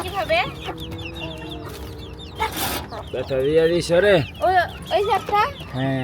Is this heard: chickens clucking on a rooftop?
yes